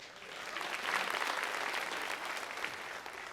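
A church audience breaks into applause with some cheering, a broad, steady wash of clapping that swells after the first half-second and holds at moderate loudness, with no talking over it.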